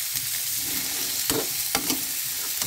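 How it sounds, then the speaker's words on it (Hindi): Carrots and peas stir-fry in a hot pan, a steady sizzle broken by a few sharp scrapes of the spatula against the pan, close and clear with no talking. "इसमें हम अपनी मटर भी डाल देंगे। इसे भी अच्छे से हम भूनेंगे।"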